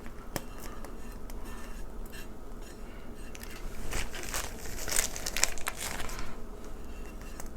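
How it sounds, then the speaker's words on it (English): Parchment paper peeled off a chocolate cake layer, a soft crinkling and crackling that swells in the middle and carries some faint clinks, close and steady with no talking. "I'm going to peel off this next layer of parchment"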